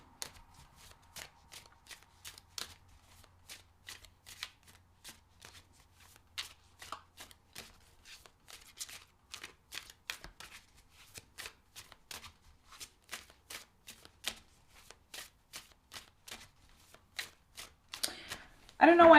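Tarot cards being shuffled by hand, a long run of crisp, close riffling snaps and taps in an irregular rhythm, with a louder rustle at the end.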